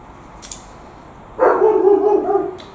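A neighbour's dog barks once, a single mid-distance bark that trails off over about a second against a quiet background.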